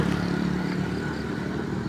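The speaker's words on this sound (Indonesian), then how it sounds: "Oh, ala wong motor digawa ribut ngono ae kok." A motorcycle engine revs noisily in a steady, loud, rough drone that holds throughout, with no talking.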